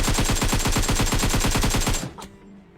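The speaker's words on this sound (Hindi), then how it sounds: "पता नहीं मेरे को कहां से गोली पड़ी।" Rapid automatic gunfire in the battle-royale game PUBG Mobile, a fast evenly spaced burst of about twenty loud close shots lasting two seconds, followed by a single fainter report and fading echo.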